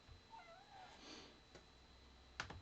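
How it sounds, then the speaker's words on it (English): A house cat meows softly indoors, a few short quiet mews followed by a sharper sound at the end, with no talking. "That's my cat."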